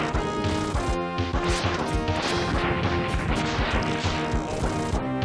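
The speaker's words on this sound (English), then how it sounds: "get over here and blow up these gates" Gates blasted apart in the Mega Man X3 video game, a dense run of loud crashing, smashing impacts over busy game music and effects, continuous for several seconds.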